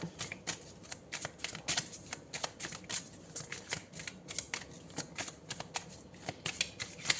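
Tarot cards are shuffled and drawn in a quiet room, a steady run of soft, rapid riffling and flicking bursts with no voice over them.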